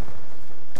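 Gunfire in Call of Duty Black Ops 2, heard as one loud, close, sharp burst of shots that lasts under a second.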